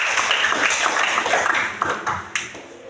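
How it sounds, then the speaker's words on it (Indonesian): A class claps hands together during a lesson, a fairly soft, dense patter of clapping that thins out with a few scattered final claps near the end. "Berikan tepuk tangan dulu."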